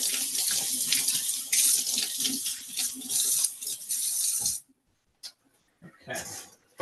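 Tap water runs steadily for several seconds as sticky, floury hands are rinsed at a kitchen sink, then cuts off, leaving a few quiet drips and small clatters.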